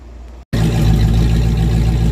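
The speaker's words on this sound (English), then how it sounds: "Let's see what the car sounds like with an open H-pipe." A 1994 Ford Mustang GT convertible V8 with an open H-pipe exhaust revs up after a brief cut, giving a loud, rough, close engine roar that holds steady, with a slight engine miss.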